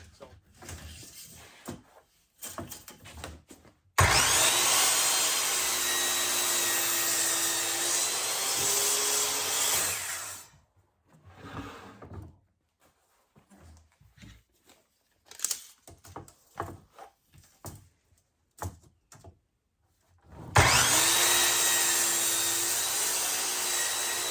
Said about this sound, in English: So what I'll do next is cut each of the sides down, that's 40 inches